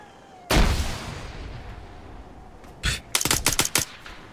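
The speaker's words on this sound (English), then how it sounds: "Grenade!" A sharp, loud grenade blast in the military video game Arma 3 bursts out close by and rumbles away, followed a couple of seconds later by a quick run of clicks and thuds.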